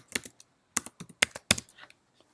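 Keys tap on a computer keyboard as a password is entered, a few short bursts of close, quiet clicks with brief pauses between them.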